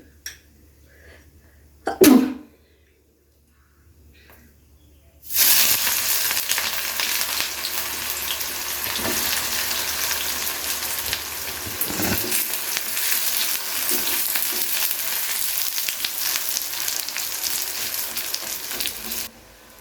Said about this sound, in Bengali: তো আমার পেঁয়াজ কিন্তু হালকা বাদামি করে ভেজে নেওয়া হয়ে গেছে